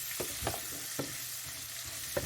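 Onions sweating in a pot, a quiet continuous frying hiss broken by a few soft stirring scrapes and taps at irregular intervals.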